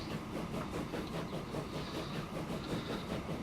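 A train rolling along rails in the game Transport Fever, a steady rumbling roll with a faint rhythmic clickety-clack of wheels over joints, moderately quiet and without talk.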